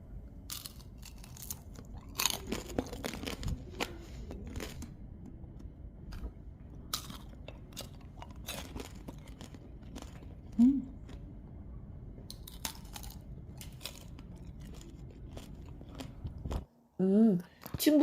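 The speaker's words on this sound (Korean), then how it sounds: "충분히 얇고 바삭한 탕후루입니다." Thin, crisp tanghulu fruit with an agar-agar and sugar syrup shell gets bitten and chewed near the mic, giving scattered sharp crunches and crackles over a quiet background. A voice speaks briefly near the end.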